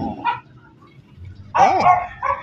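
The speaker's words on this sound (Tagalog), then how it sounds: "Nag-iingay na naman ng aso" A dog barks nearby in a garden, with a short bark, a pause, then a louder burst of yelping barks and a whine.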